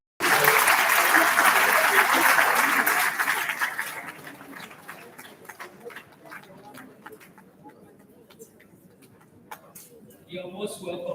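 Audience applause fills a hall at a Lagos State Pension Commission event, a loud burst of clapping for the Director General and finance executive that fades after about four seconds into murmuring crowd noise and talk.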